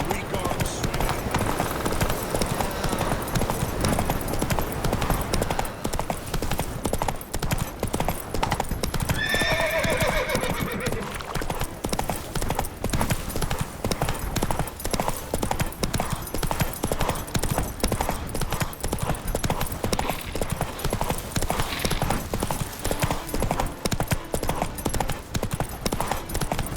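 Roach, the horse in The Witcher 3, galloping with loud, fast, continuous hoofbeats, breaking into a distinct whinny partway through, while game dialogue is spoken over the running.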